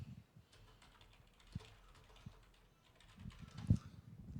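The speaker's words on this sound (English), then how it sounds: "just typing here" Quiet computer keyboard typing during an online learning session: soft, irregular clusters of key taps at close range, with no voice over them.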